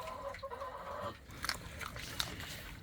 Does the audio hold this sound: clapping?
no